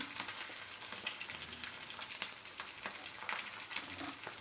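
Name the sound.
egg frying in a pan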